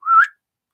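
A person whistles one short, rising note, clear and close, then silence follows.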